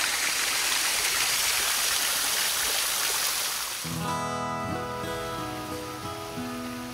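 A broad, steady rush of a mountain waterfall in South Carolina fills the first half, then drops back as tonal voices or music come in over the continuing water.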